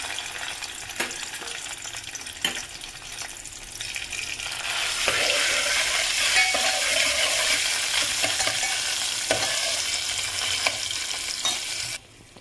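Spice masala added to hot oil for a Vidarbha-style patwadi rassa builds into a strong, continuous close sizzle, with scattered utensil clinks and stirring scrapes, then cuts off abruptly near the end.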